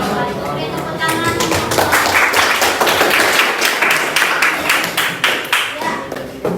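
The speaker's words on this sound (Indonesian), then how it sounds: "Beri tepuk tangan." A group of people clapping their hands together in a classroom gathering, loud and dense at first, then thinning into separate claps toward the end, with voices mixed in underneath.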